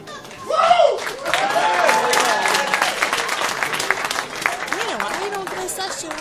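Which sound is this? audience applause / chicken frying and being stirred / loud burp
audience applause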